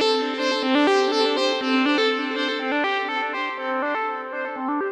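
An Arturia Matrix 12 virtual synth arpeggio with its filter frequency automated on one voice, layered with a Wurlitzer electric piano line, bright and rippling with a chorus-like shimmer, steady and up front with no talk.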